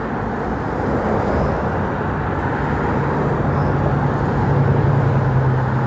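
Steady, loud roar of road traffic close by, with a low engine hum building toward the end as vehicles pass continuously.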